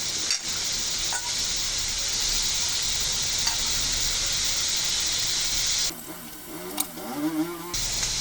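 Vegetables and jackfruit seeds fry in a pan for a Bengali yardlong bean and flat bean curry, giving a loud, steady sizzle and hiss that drops near the end as the pan is stirred with scraping sounds.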